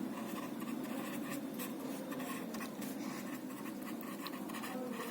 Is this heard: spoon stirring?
no